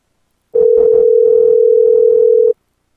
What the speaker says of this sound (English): It's ringing. You're hearing it.